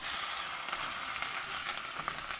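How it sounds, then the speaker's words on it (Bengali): Slit green chillies and whole cumin seeds hit hot oil, producing a bright, continuous sizzling hiss that stays steady and close throughout. "এবার দিয়ে দেব আমি কাঁচা লঙ্কা চিড়ে নেওয়া"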